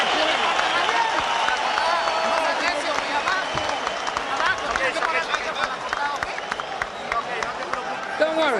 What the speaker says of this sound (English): And the crowd comes to its feet for the first time tonight.